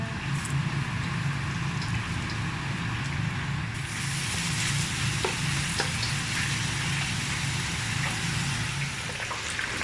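Garlic frying in a pan gives a steady, dense sizzle that runs unbroken from start to finish, loud and close, with no voices over it.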